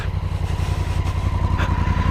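A Honda Africa Twin motorcycle under way on Suffolk roads, its engine a steady, throbbing low drone with a fast pulsing beat close up, plus a faint hiss of wind, and no voices.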